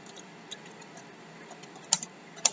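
A few sparse, faint computer keyboard keystrokes tap out close by against a quiet background, two sharper clicks landing near the end.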